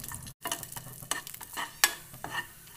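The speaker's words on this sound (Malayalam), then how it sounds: "അതിലേക്ക് കുറച്ച് നട്ട്സും റേസിൻസും ഇട്ട് കൊടുക്കാം. ഇനി ഇത് ഇളക്കി കൊടുക്കാം." Nuts and raisins fry in a little ghee while a spoon stirs them, soft sizzling broken by scraping strokes and light clinks against the pan, with one brief pause.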